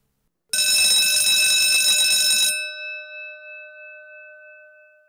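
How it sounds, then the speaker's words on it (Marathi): A dinner bell rings out as a loud, steady electric alarm-like tone for about two seconds, then cuts off and leaves a ringing, fading resonance with no voices. "संध्याकाळच्या जेवणाची घंटा झाली."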